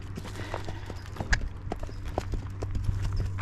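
A Tennessee Walking Horse's hooves clatter steadily as it paces downhill in a round pen, its gait shifting from a four-beat stride to a step pace and then a pace, with close, distinct footfalls and no talk.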